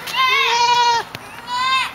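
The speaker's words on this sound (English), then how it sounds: "Hey goats." Goats on a farm bleat loudly and close by, two wavering calls separated by a short pause.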